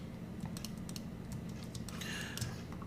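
Keys clack on a computer keyboard in a quick, irregular run of light taps, close and fairly quiet over a steady background hum, with no one speaking.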